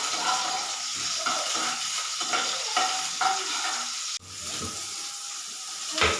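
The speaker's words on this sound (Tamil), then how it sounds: "வெள்ளைப்பூடை நல்லா வதக்கி விட்டுக்குவோம்" Garlic sautéing in a pan for pasta, a steady loud sizzle and hiss with scraping stirring strokes throughout and a sudden sharper burst near the end.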